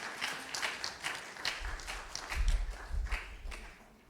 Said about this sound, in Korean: 우리 전도사님 나오실 때 우리 박수로 한번 환영해 주시면 감사하겠습니다